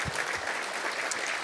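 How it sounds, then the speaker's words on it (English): A conference audience breaks into dense, steady applause for the event organizers, a broad wash of clapping filling the hall without any talk. "Actually, these guys deserve some applause"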